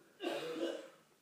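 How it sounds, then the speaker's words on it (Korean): A man with a cold coughs once, a short rough burst with a throat-clearing quality, close and fairly loud, during a Bible reading. "그래서 기침소리가 자꾸 들어갈 수도 있어."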